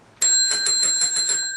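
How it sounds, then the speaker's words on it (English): A bright metallic bell rings clearly, struck in a quick series of strokes whose tones sustain and overlap, loud and close with no voices. "Another bell ringer there."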